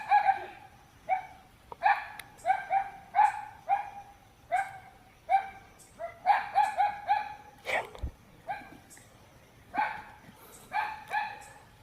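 A dog barks repeatedly in short bursts, fairly close, with a faint rooster-like crow in the background.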